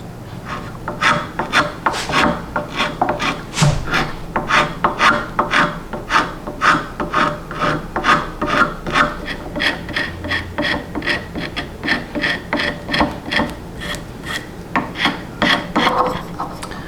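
Sandpaper rasping over a 100+ year old hand plane in rapid rhythmic back-and-forth strokes, close and fairly loud, dozens of scrubbing passes in steady succession without any talk.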